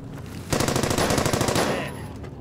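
Rapid bursts of automatic gunfire lay down suppressing fire in the World War II shooter Brothers in Arms: Hell's Highway, a loud, dense rattle of shots lasting about a second, alone with no talk.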